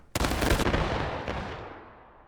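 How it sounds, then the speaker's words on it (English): A skyward musket volley fired as a salute at a Gettysburg remembrance ceremony in the War of Rights game: one loud, close, ragged crack of many muskets together, fading into a long rolling echo. "Take aim. Hey. 45 degrees in the air. Again. 45 degrees in the air. Fire!"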